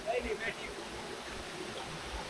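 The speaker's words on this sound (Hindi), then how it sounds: "ये पानी बेसिकली किसी पहाड़ के चश्मे में से आ रहा है, सिर्फ बारिशों का पानी नहीं है" Water from a mountain spring flows in a stream on rocky outskirts near Karachi, a steady close rushing and burbling with no talk over it.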